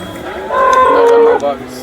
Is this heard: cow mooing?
yes